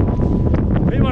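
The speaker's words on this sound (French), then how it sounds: "un vent pas possible" Strong wind buffeting the microphone during an outdoor 25 km trail race, a steady loud roaring rumble with gusty low-frequency thumps throughout, no clear speech.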